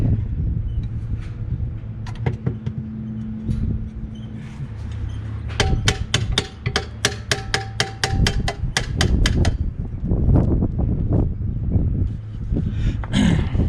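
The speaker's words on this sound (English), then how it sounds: "I'm gonna take a hammer and kind of tap it in place" A hammer strikes a camper stabilizer in a few scattered knocks, then a fast run of about a dozen ringing metallic taps, followed by louder shuffling clanks close by.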